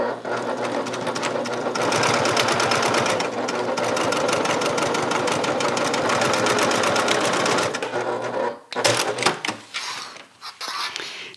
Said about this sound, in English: So we're going to go ahead and top stitch that in place.